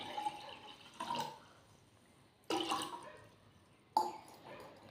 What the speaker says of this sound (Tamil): மீதி தண்ணி சேர்த்துக்கலாங்க.